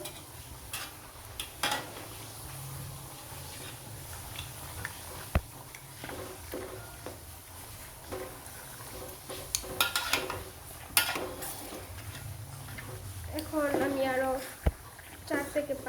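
Beef being stirred in a cooking pot, scattered scraping and clinks of a utensil against metal with a light sizzle underneath, intermittent and close while a person talks over parts of it.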